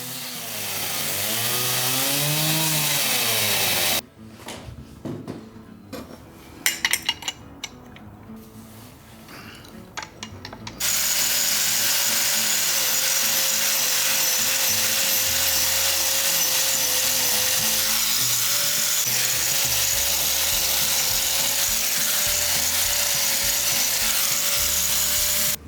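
Chainsaw with an older bar scraping out round bark pockets in a thick wood slab, a loud steady whine that drops into rough, choppy cutting for several seconds before the full-throttle roar resumes and holds.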